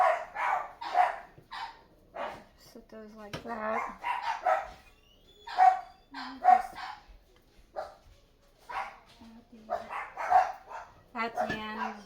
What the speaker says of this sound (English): I'm sorry about the dogs barking.